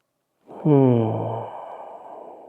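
A single long, relaxed exhale during a vinyasa yoga practice, close and clear, starting with a voiced sigh and trailing off into soft breathy air over about two seconds.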